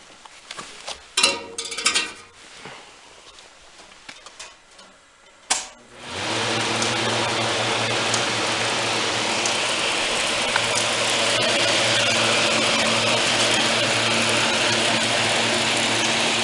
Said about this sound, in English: Those squirrel cage fans are really, they take a lot of power to spin up. Let's try high speed now.